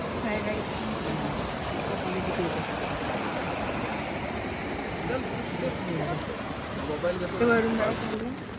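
A continuous rushing of water flowing down from above after overnight rain fills the scene, steady and fairly close, with occasional voices faintly over it.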